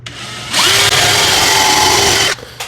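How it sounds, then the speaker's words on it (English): Power drill pre-drilling up into wood crown molding on kitchen cabinets, a loud, close whine lasting about two seconds that rises as the bit spins up and bites into the wood, then cuts off, with no talk. "I'm gonna pre-drill up into that."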